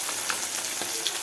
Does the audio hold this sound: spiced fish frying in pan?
yes